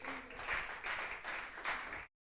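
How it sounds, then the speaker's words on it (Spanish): Church congregation applauding together during a worship service, a steady broadband clapping with a few rhythmic surges, moderately loud and without voices, ending abruptly. "Dele un fuerte aplauso al Señor."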